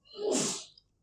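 A single person sneezes once during a classroom lecture, a sharp burst that swells and fades within about half a second, close and clear, followed by a small click.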